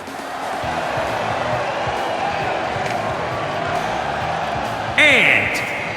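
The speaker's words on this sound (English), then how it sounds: "it sounds to me like the crowd is more than ready for this one" A packed wrestling-arena crowd in the WWE 2K20 video game roars in a steady, dense wash beneath continuous commentator talk, then a sharp brighter swell bursts in near the end.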